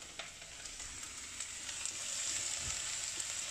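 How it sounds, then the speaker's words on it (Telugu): Chopped mixed vegetables frying in a pan for a clear vegetable soup, a soft continuous sizzle with faint scattered crackles and stirring, quiet and steady with no talk. "కొంచెం వేగనివ్వాలి ముక్కల్ని."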